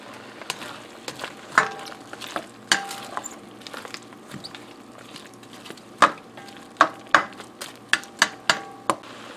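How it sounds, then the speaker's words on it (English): Cauliflower and leeks sautéing in a cast iron pan, a low sizzle broken by repeated sharp scrapes and clacks of a utensil against the metal, close and irregular, with no talking. "while the saute is taking place"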